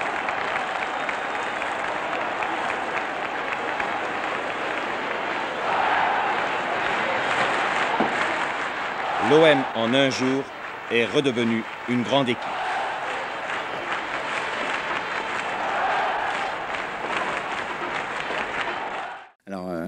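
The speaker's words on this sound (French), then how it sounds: "c'était une marche triomphale à laquelle les clameurs de la foule se mêlaient étroitement" A football crowd clamours and applauds during a victory lap, a steady roar of cheering and clapping under someone narrating in French on an archive broadcast, with swelling shouts in the middle.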